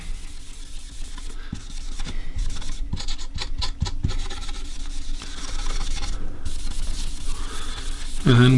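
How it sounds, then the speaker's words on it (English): Hand sanding across a stained quilted maple guitar body during a fade stain job, a steady close rubbing rasp with brief heavier strokes in the middle, continuing without talk. "What I'll do is I'll spend a little more time sanding that out."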